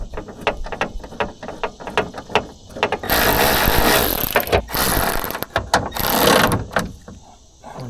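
Ratchet wrench tightening bolts on a 2008 BMW 750i window regulator, quick rhythmic clicking strokes up close, broken by two longer bursts of harsh whirring grind, with no speech.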